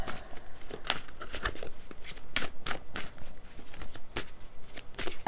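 Tarot cards being shuffled and drawn, a steady run of crisp papery riffles and flicks spaced through the clip, close and moderately loud with no talking.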